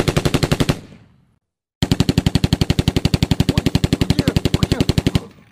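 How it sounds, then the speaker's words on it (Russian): Loud, close bursts of machine gun fire come as rapid, evenly spaced shots: a short burst, a second of silence, then a long sustained string of rounds. "Ой, мама, там стреляет."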